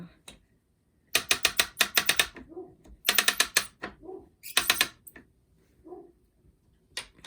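Tabby Jack warp tensioner ratchet cranked in several quick bursts of sharp clicking pawl ticks, close and clear, with short pauses and soft thumps between the bursts and no talk.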